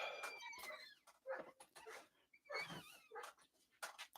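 A dog yelps and barks repeatedly in short, high-pitched bursts, fairly faint and somewhat distant, with brief pauses between them.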